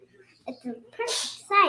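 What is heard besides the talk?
a girl sneezing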